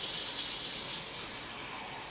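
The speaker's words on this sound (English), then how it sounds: "So I'm using warm tap water." Warm tap water runs steadily from a faucet into a big cup while measuring for homemade bread dough, a close, loud continuous gushing stream with no voices.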